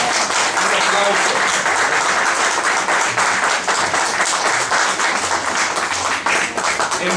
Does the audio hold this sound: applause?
yes